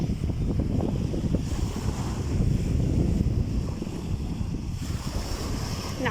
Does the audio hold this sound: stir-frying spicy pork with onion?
no